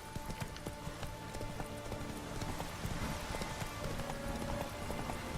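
Horse hooves gallop in The Witcher 3 video game, producing a steady, rapid run of hoofbeats at moderate loudness over a busy background, with no talk.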